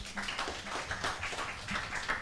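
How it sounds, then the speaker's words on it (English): Applause from a seated audience at a university presentation event, a soft, steady patter of many hands that sounds somewhat distant and stays even for a couple of seconds. "Let's give them a round of applause."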